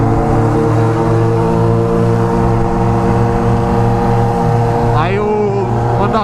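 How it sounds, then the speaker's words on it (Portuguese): A Honda Hornet motorcycle with a loud aftermarket exhaust rumbles close by at a steady idle, its deep throbbing drone filling the whole stretch, with a brief voice near the end. "Aí ela faz muito barulho, essa moto aqui."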